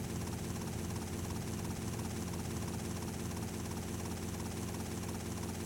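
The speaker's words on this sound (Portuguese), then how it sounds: "E agora o helicóptero vai demorar a subir, né? Também carregando mais de uma tonelada ainda." A helicopter in GTA Vice City Stories hauling a heavy load of over a ton, giving a steady, dense rotor and engine drone that holds constant and loud throughout, with no talk.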